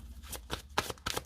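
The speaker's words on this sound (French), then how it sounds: "je vous donne la réponse après avoir mélangé mes cartes" Tarot cards are shuffled up close in quick riffling bursts, about four short papery flurries in a second.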